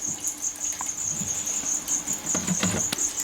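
Crickets chirp in a leaf-tailed gecko enclosure, a steady high-pitched trill running throughout with faint rustling and small movements underneath, no talking.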